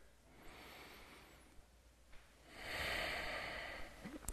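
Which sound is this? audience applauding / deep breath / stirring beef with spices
deep breath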